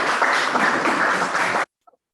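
Audience clapping at a United Way of Summit & Medina gathering, a dense, even burst of applause that carries for over a second and then cuts off abruptly into silence.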